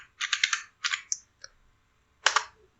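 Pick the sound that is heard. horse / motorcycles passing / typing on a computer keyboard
typing on a computer keyboard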